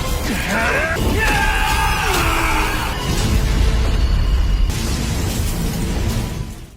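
A large, rumbling explosion with crashing debris and a heavy low roar that stays loud throughout, with tonal effects layered over it early on.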